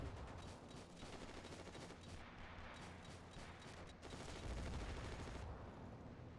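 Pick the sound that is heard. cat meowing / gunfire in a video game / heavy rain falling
gunfire in a video game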